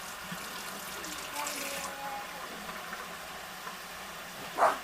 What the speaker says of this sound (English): So you're going to run hot water and soak them in the hot water.